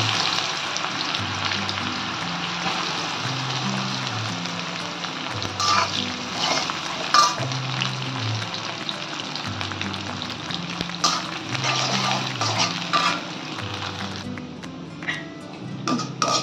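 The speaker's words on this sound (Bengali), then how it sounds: "পেঁয়াজগুলোকে ভেজে নিলাম" Onions crackle and sizzle steadily in hot oil in a wok for mutton biryani, a continuous close frying hiss with small pops, while soft music runs underneath.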